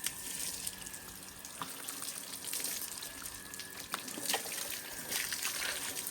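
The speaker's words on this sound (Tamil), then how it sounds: "முதல்ல இந்த மாதிரி எல்லா இடத்துலையுமே தண்ணி ஸ்ப்ரெட் பண்ணி விட்ருங்க" Water spraying from a 1/2 HP motor pump onto a Royal Enfield motorcycle during a home wash, a continuous hissing spray with splashes and patter, fairly steady throughout without talk.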